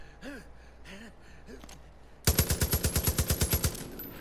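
After a few breathy gasps, a RAT4 gun in Far Cry 5 fires one rapid burst of about fourteen loud, evenly spaced shots lasting just over a second, then stops.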